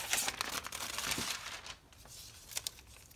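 A strip of decorative tape is handled for prepping an art journal, making soft close crinkles and tearing rustles in short bursts, fairly quiet with brief pauses.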